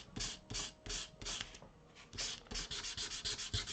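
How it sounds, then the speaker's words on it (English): Sandpaper scrubs glossy magazine paper laid over beeswax in quick back-and-forth strokes, a close, rhythmic rasp of about a dozen bursts that speed up toward the end, with no talking. "So what we're doing is we're roughing up that glossy paper so that the magazine page will absorb water."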